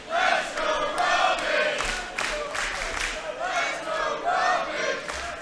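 A wrestling crowd at the main event of a live show roars and chants in a loud, continuous wall of cheering with rising surges of shouting, and no clear voice stands out.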